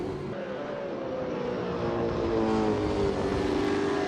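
V8 Supercar engines roaring through the Albert Park 9-10 chicane during a Super 2 race, a steady, loud, sustained engine drone with shifting pitch as cars accelerate through the corners.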